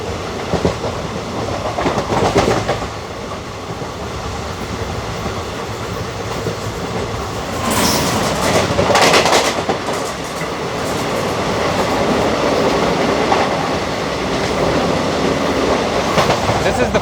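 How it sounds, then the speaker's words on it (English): A freight train rumbles past on the adjacent line beside a stopped or slowly moving passenger express at Lokpur station, with loud, continuous wheel noise, rhythmic rail clatter and brief surges as wagons go by close at hand. "This is the fourth freight train that has crossed us in the span of the last 10 minutes"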